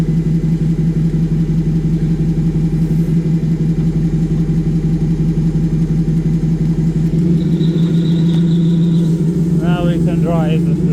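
A forklift's engine drones steadily at idle, then its pitch and tone change as the mast raises the load, with hydraulic whining near the end and someone talking over it.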